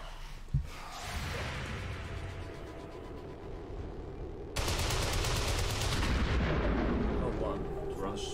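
Gunfire in the video game XCOM 2: War of the Chosen, with a sharp shot early on followed by a rumbling barrage that turns louder and denser with rapid bursts midway through.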